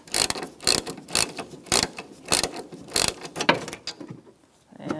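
A ratchet wrench clicks in rapid, rhythmic strokes as the remaining strut bolt comes out of a 2012-2018 Ford Focus front strut assembly, loud and close, then stops.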